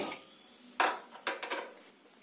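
A kitchen gas stove is switched on while a pakora batter waits: one sharp metallic click, then a short cluster of clicks and knocks a moment later, close and clear in a quiet room.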